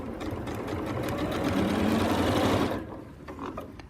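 Sewing machine running a short burst of back-stitching while inserting a concealed zip, a close, steady mechanical whirr that builds for a few seconds and then stops, leaving a quiet pause.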